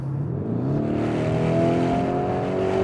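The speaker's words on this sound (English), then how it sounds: "immediately you get big decibels of sound, immediate engine response" A Lamborghini Urus SUV engine revs loudly and steadily in sport mode, its pitch climbing in a sustained roar close by with no talking.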